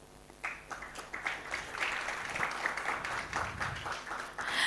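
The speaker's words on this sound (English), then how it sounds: "A round of applause for the guests and speakers who are in our midst." Audience applause for guests and speakers at a university innovation week event, a diffuse wash of many hands clapping that swells and holds steady through the room.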